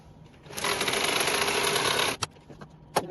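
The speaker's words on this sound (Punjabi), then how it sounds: "ਇਸ ਤਰ੍ਹਾਂ ਹੀ ਆਪਾਂ ਇੱਧਰ ਸਲਾਈ ਲਾਉਣੀ ਹੈ" A sewing machine runs in one steady burst for about a second and a half while stitching the side seams of a kachhera, a traditional undergarment. It stops, and a few sharp clicks follow.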